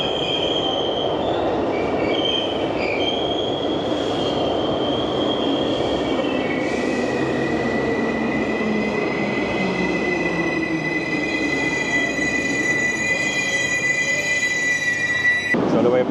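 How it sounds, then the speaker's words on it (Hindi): A Tehran metro train pulls into the station with wheels squealing in high, sustained tones over a steady rumble, the screech rising and shifting for the whole approach. "चलो भाई, अपनी ट्रेन आ गई है, उसमें बैठते हैं चल के।"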